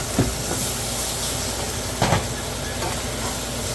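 Water splashed into a hot pan of steak and onions sizzles with two sharp hissing bursts over a steady bubbling background.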